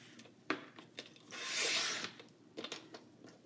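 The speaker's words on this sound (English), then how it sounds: "I'm going to trim off a strip off of both sheets" A paper trimmer slices a strip off two sheets of 12x12 scrapbook paper, giving a brief rasping slide of the blade lasting about half a second, framed by light clicks and handling rustles, close and fairly quiet.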